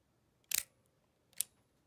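A Kodak Medalist camera shutter fires twice at 1/25 second, each a crisp, close mechanical click separated by just under a second of near silence.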